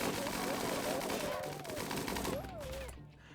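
Turrets firing in the video game Rimworld, rapid bursts of gunfire layered over game music and effects, with a voice talking over the shots throughout.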